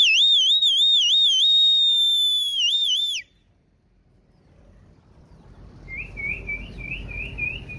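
A pigeon keeper's whistle blows a loud warbling trill for about three seconds, then falls away to a faint thin chirping tone over rising outdoor rumble.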